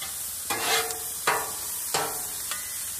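Chopped vegetables sizzle steadily on a hot Blackstone griddle while a metal spatula scrapes and tosses them in about four rhythmic strokes, close and fairly loud.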